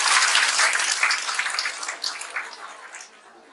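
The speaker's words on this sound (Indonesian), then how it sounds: "Kita beri tepuk tangan ini." An audience at a health talk applauds. The clapping is a dense, bright wash that starts loud and tapers off over a few seconds.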